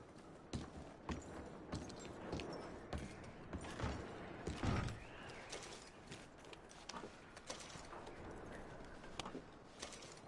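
Horses walking in Red Dead Redemption 2, a steady, quiet clip-clop of hooves with some creaks and mechanical rattles nearby, no talking.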